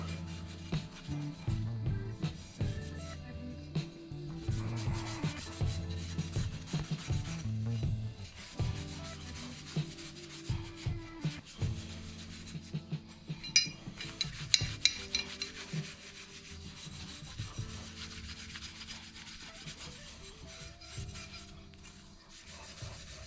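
Scuffing a metal motor mount part for a 1981 Chevrolet Monte Carlo before painting produces a long run of rhythmic rasping, gritty rubbing strokes close by, with no voices over it.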